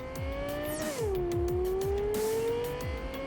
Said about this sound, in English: The vehicles sound really good, with the sports cars sounding really gritty and raw.